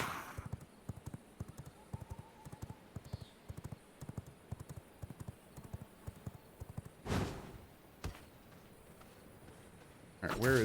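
Horse hooves clip-clop in a steady, evenly spaced rhythm in the video game V Rising, fairly quiet and close, with a couple of louder whooshing bursts near the end and no talking.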